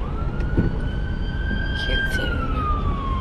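Emergency vehicle sirens from police cars and an ambulance wail steadily and loudly over road traffic, rising and falling in pitch, with a brief spoken remark over them.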